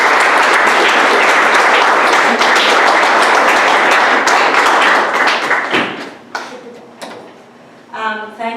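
An audience at an evening lecture on Judaica applauds to welcome the speaker, dense sustained clapping that fills the room for several seconds, then thins out and fades into a few scattered claps and low murmurs.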